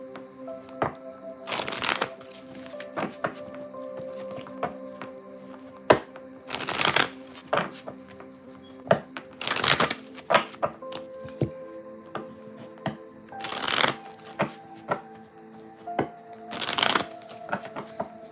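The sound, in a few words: shuffling tarot cards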